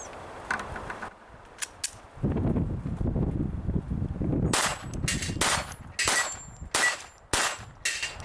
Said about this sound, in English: Ran well in the Glock 44.